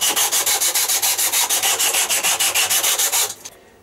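Hand rasping or sanding to round over a wooden guitar neck held in a clamp, a fast steady rhythm of about seven rough back-and-forth strokes per second, loud and close, stopping near the end.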